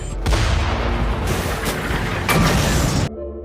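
A cannon fires from the ship Samson in a film, a heavy roaring blast with a second surge of booming, mechanical clatter beneath, loud and close before cutting off abruptly.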